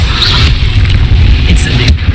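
A loud, sustained fiery whoosh and boom from the Incendio fire spell in Hogwarts Legacy fills the moment, a dense roaring blast with crackling bursts layered over it.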